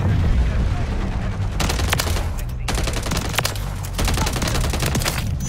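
Bursts of automatic fire from a UMP45 submachine gun in the shooter game MW3, several loud rapid volleys separated by short pauses, with game ambience beneath.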